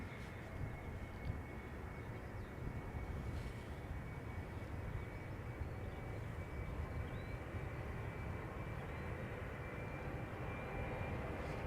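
A KLM Embraer 190 airliner lining up on the runway at Schiphol Airport, a steady broadband jet roar with a faint high whine, constant and moderately distant throughout.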